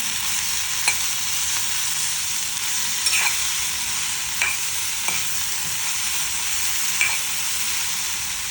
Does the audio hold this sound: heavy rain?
no